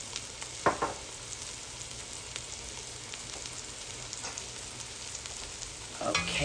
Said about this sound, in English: just fry that onion and garlic and try to get all that good stuff from the bottom